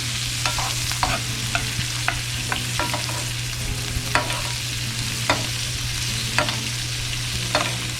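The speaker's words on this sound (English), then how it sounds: "I'm gonna baste my steaks with the hot butter, flavored butter" Ribeye steaks sizzle steadily in a hot pan as flavored butter is spooned over them, with repeated sharp spoon-and-pan clinks over a constant frying hiss and a low hum, no talking.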